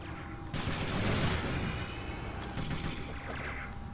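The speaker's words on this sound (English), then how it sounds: "these speed rockets are like really not that great" Speed rockets fire in the vehicular combat game Twisted Metal 4, a sudden loud burst of whooshing, explosive blasts that swells after half a second, followed by further sharp launches and a lingering rumble, with no talking.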